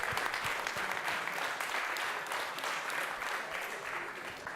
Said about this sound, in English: Another one, a very warm applause for her.